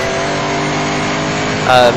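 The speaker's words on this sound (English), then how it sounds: "Listen to that engine, fantastic." A BMW M3 race car engine drones with a steady tonal hum at Silverstone circuit, then briefly revs higher near the end; a commentator talks over it.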